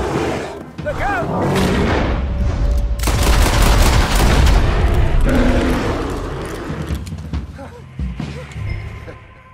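Dense, booming video game gunfire goes on almost without a break in a loud sustained barrage, with people shouting in the middle of it.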